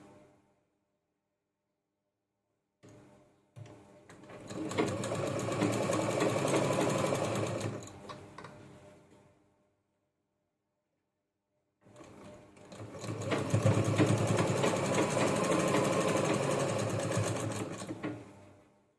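A sewing machine stitches tape along a bag made from a blouse piece in two close, rapid whirring runs of several seconds each, separated by quiet pauses and short clicks.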